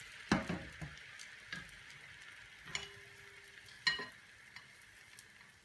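Crêpes cooking in a pan, with a soft, faint sizzle running under scattered clinks and taps of a utensil against the pan, plus one brief low tone.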